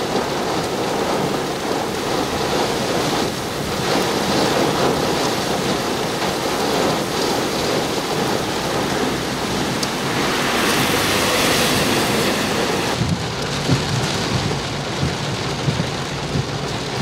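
Heavy downpour during a thunderstorm near Nördlingen, a dense, continuous roar of rain with a low rumble underneath, loud and steady throughout.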